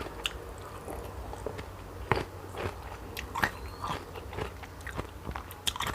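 Close, wet chewing and biting of raw beef laab, a northern Thai minced meat dish, with irregular crunchy bites and squishy mouth sounds over about six seconds, no talking.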